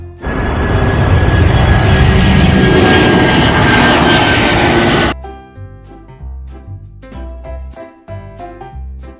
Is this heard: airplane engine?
yes